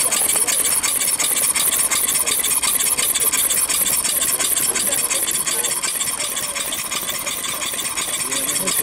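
A car engine idles steadily at a car club meet, with a dense, even mechanical clatter and ticking that holds without a break for the whole stretch. No one speaks over it.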